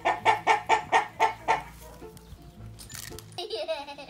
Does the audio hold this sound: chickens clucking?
yes